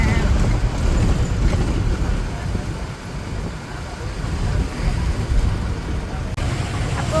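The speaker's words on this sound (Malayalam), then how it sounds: "ഞങ്ങൾ ബസ്സിൽ പോയോണ്ടിരിക്കുകയാണ് കേട്ടോ" A bus drives along a road with a steady, loud rumble of engine and road noise, some wind buffeting, and faint voices in the background.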